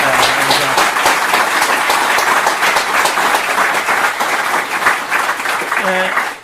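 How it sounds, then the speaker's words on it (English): An audience claps for a man at an Irish historical website launch, a loud, sustained round of applause lasting about six seconds, with a voice briefly heard near the end. "could you give Dave a big round of applause there"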